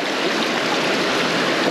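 Stream water rushes steadily during outdoor gold panning, a close, even, broadband wash with no pauses.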